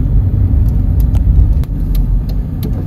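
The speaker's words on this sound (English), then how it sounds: "I'm gonna drive now" A car engine rumbles close and loud as driving begins, a low, steady growl with a few faint clicks and taps over it and no speech.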